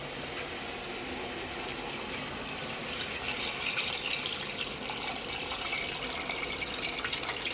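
Water poured steadily into a pot holding tamarind, a continuous close splashing pour that grows slightly brighter as it goes.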